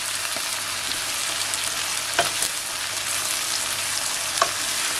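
Two or three garlic cloves frying in a pan, a close, steady sizzle broken by a few sharp clicks as they are stirred.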